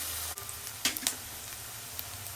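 Onions frying with salt in a pan for a mutton curry, a faint steady sizzle broken by a few soft stirring clicks and scrapes, close and quiet with no talk.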